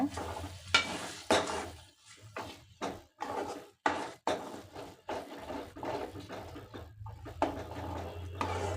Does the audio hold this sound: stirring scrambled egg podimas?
yes